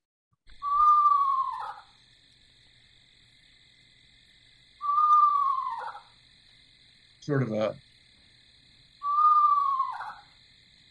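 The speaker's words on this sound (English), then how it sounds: "So I'm going to play the call of the eastern screech owl." Eastern screech owl call plays three times at an even spacing, each a clear descending whinny-like trill, with a voice briefly speaking between calls.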